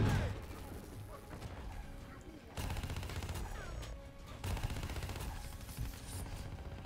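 Turret gunfire in a Black Ops 3 campaign mission, rapid bursts of shots and crashes mixed with battle noise, moderately faint overall, with a voice talking at times.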